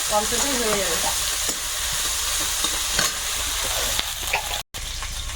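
Panch phoron spices and fresh homegrown bay leaves fry in hot oil in a home kitchen, giving a steady, loud sizzle and crackle. Occasional stirring clatters through it, and the sound cuts out briefly near the end.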